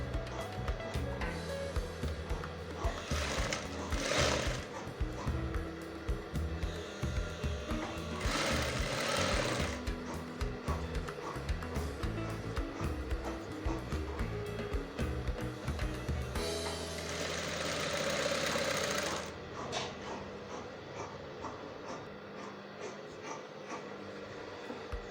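A sewing machine stitches along a skirt edge, a fast, close mechanical rattle that runs in long continuous bursts with brief changes in pace, then slows near the end.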